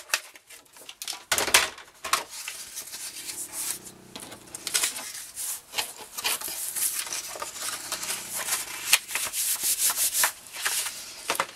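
Paper folds being creased and pressed for a handmade mini album, giving repeated close rubbing and scraping strokes with occasional taps, steady and fairly quiet throughout.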